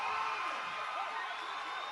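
A crowd applauds and cheers after a strongman truck-pulling contest, a steady dense wash of clapping and whoops with no pauses throughout.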